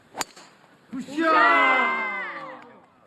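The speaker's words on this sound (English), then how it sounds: "crowd certainly like that tee shot" Golf gallery at a women's professional tournament round in Korea, roaring and whooping approval of a tee shot on an uphill par hole; a swelling crowd cheer that builds quickly and holds for a couple of seconds before fading.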